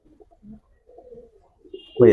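High flyer pigeons coo faintly in a few short, soft murmurs against near silence, ending in a sudden louder burst close by.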